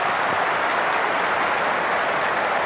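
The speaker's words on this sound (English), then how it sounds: "The crowd roars." A cricket crowd at a one-day international between Australia and England roars and applauds a boundary by Aaron Finch, a dense, even wash of noise filling the whole moment.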